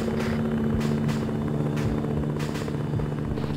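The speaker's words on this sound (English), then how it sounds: "Helicopter spooling up east" A military helicopter spools up in the game ArmA III, giving a loud, continuous rotor drone with a rhythmic whump of the blades and a steady engine whine throughout.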